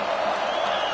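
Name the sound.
crowd cheering at a football game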